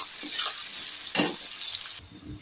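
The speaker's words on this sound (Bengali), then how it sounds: "সামান্য একটু নুন দিলাম যাতে তাড়াতাড়ি ভাজা হয়ে যায়, পেঁয়াজটা নরম হয়ে যাচ্ছে" Chopped onions with a pinch of salt fry softly in a pan, a faint steady sizzle with a brief scraping stir midway. The sound drops to near quiet at the end.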